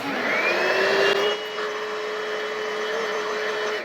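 An original Bissell Little Green portable carpet cleaner runs close by with a steady motor whine and suction roar, pitch shifting slightly after a second, continuous and alone.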